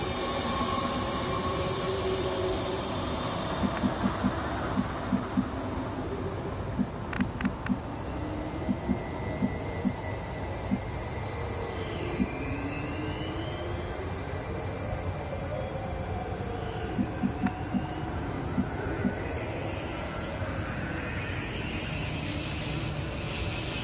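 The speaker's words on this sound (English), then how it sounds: "They keep these trains running around the clock" A train from the video game XCOM 2 rumbles along continuously with a dense, steady roar, faint metallic clicks and squeals of the wheels rising and falling over the running noise.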